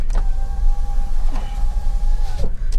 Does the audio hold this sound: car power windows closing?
yes